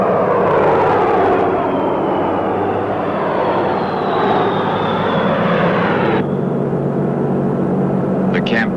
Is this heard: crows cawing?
no